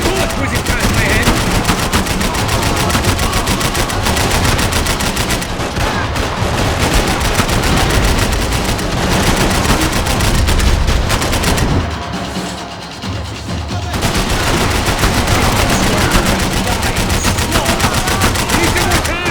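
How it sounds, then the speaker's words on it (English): Dense, rapid gunfire from the Max Payne 3 video game rattles almost without pause, loud and close, with a short lull midway before the shooting resumes. "keep pushing, there's bullets whizzing past my head!"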